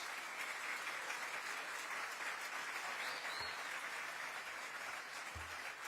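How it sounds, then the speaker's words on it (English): A crowd at a political rally in a Smyrna outdoor sports store in Cobb County gives a senator steady, sustained applause, a dense wash of clapping heard at some distance that holds evenly throughout. "Let's give him a big round of applause."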